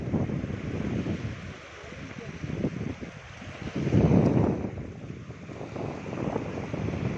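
Rough sea on a beach outing, with broad wind rush and surging wave wash that swells loudest in the middle, heavy buffeting on the microphone; voices can be heard at times underneath.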